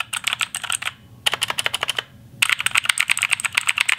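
Rapid clattering keystrokes on a budget gaming keyboard with clicky blue switches, close and loud, coming in three bursts separated by brief pauses.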